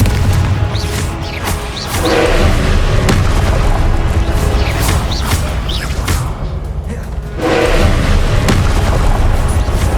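Explosive blasts from the Confringo spell in Hogwarts Legacy, loud booming bursts hitting in close succession over a thick game soundscape, with a short dip before another heavy burst.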